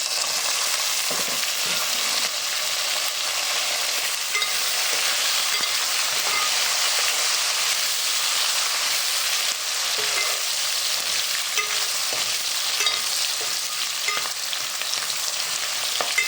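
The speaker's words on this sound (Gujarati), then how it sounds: "આપણે નાખી દેવા ડુંગળી, સુકેલી ડુંગળી." Dried sliced onions hit hot oil in a pan and fry with a loud, steady, dense sizzle lasting throughout, with faint scraping at times and no voices.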